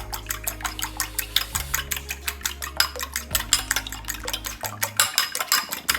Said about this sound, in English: Grab a fork and then go ahead and whisk them together.